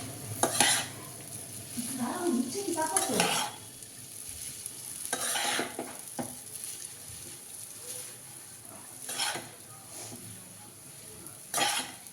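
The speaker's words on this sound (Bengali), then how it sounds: "আর এখন এখানে আমি পার্শে মাছটা ভেজে নিচ্ছি" Parshe fish fries in a pan, with a constant sizzle under repeated bursts of spatula stirring and scraping against the pan. A few louder clattering strokes stand out, and there is no talking.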